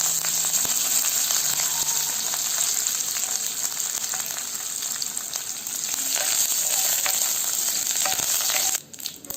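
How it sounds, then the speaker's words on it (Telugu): Cumin seeds, dried red chilies and curry leaves frying in hot oil for an Andhra-style tomato pepper rasam, giving a loud, close, continuous sizzle with faint crackles and a brief stir near the end, no voices. "జీలకర్ర, ఎండుమిరపకాయలు, అలాగే కరివేపాకు వేసి 30 సెకండ్స్ ఫ్రై చేయాలి."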